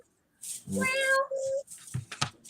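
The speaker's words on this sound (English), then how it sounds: "Here's a kitty gonna play." A cat meows in a building video game, one drawn-out harmonic meow followed by a shorter second call, close and clear, with a few soft clicks and light sounds after.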